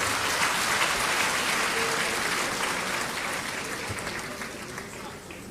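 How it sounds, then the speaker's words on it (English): Audience applause at a university congregation ceremony for King Mswati III and Her Royal Highness, a dense steady clapping from a large crowd that fades slightly toward the end, with no speech over it. "Please applaud her."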